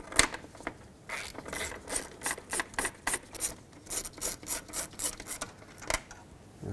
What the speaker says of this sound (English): with a 10 millimeter, let's unbolt the fan from the radiator